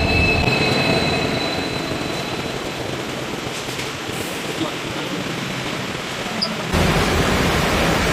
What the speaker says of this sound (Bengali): 13150 কাঞ্চনকন্যা এক্সপ্রেস এখনই ঢুকছে শিলিগুড়ি জাংশনে